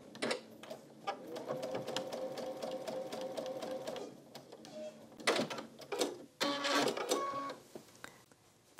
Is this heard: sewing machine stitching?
yes